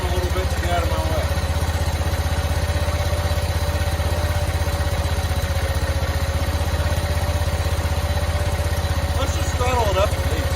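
A 1985 John Deere 210 lawn tractor engine idles with a steady, close, low mechanical chug and rattle that runs unbroken, with someone talking over it now and then.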